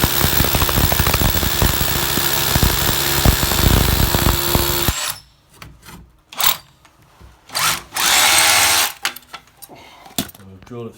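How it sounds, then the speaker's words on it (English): A power drill bores through an apartment wall to route ducting for an NBN socket, first running loud and continuous for several seconds, then in short, separate bursts with quieter gaps. "Drilled it through from this side here now"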